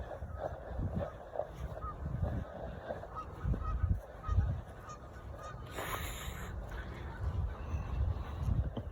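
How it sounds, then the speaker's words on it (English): A goose at a fishing spot beside the water honks repeatedly in loud, nearby bursts, with a brief noisy splash-like rush partway through and faint background activity. "Silly goose."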